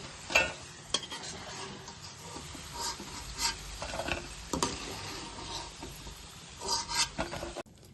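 Pieces of chicken for chicken majestic sizzle in hot oil in a kadai while a spoon stirs and scrapes them, with steady frying hiss broken by a few sharp metallic clinks and scrapes.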